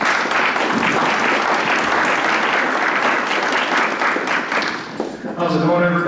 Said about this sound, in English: Jeff, about a round of applause.